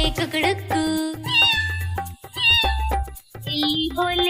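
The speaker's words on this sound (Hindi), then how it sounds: "बिल्ली बोले म्याऊ म्याऊ" Repeated cat-like meows rise and fall in a quick rhythmic pattern over a bouncy musical backing in a Hindi children's rhyme.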